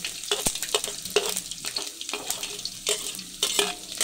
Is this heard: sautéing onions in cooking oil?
yes